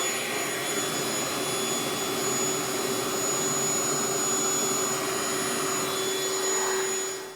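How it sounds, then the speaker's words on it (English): A belt sander runs on hardwood as a loud, close, steady motor whine with a constant abrasive roar that holds evenly for several seconds before tapering off at the end. "I'm probably gonna stop using the belt sander"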